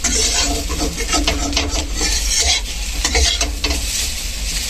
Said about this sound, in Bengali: এখানে হচ্ছে আলু ভাজা, আর গাজর ভাজা